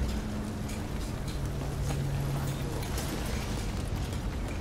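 Fire burning in The Division video game, a steady dense roar and crackle filling the scene at constant loudness, with low rumbling underneath and no talking.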